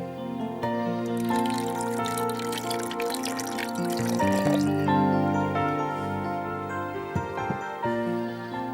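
Half a glass of water is poured into a papaya lassi mix of papaya paste, yogurt and honey, giving a steady pouring trickle with bright ringing tones over background music.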